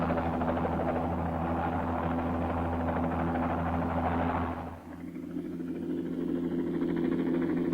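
A helicopter, the kind that lands and takes off from the White House lawn, flies with a steady droning rotor and engine hum, fading briefly before swelling back, heard alone on an old film soundtrack.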